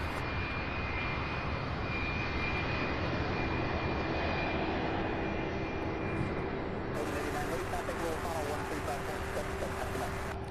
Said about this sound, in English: the sound that comes out of these aircraft, some of them is just incredible